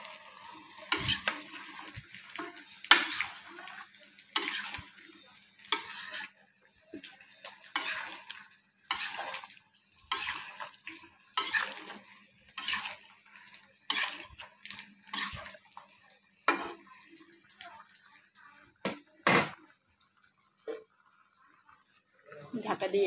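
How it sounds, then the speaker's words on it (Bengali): Bottle gourd being stirred in a cooking pan, a steady series of scraping strokes with soft sizzling between them, loud and close, repeating every second or so. "আমি লাউটা একটু নেড়ে দিচ্ছি"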